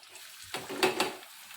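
Onion and green chili hit hot oil in a kadhai on full gas, giving a short burst of sizzling and crackling that swells and then fades, close and fairly loud.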